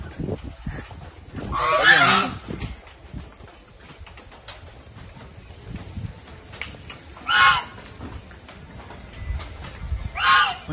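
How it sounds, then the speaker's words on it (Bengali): A goose honks in three loud, harsh bursts spaced a few seconds apart, heard outdoors on temple grounds over a low background hum. "দেখ না, এটা তো রাজহাঁস।"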